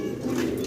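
Pigeons at a pigeon farm giving a brief, soft, low coo under a light background hiss.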